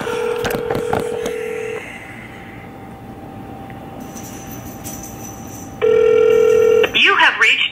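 A phone call being dialed, with a flurry of keypad tones, then a steady tone and later a loud ringback tone, ending in the sound of a connection. No one speaks.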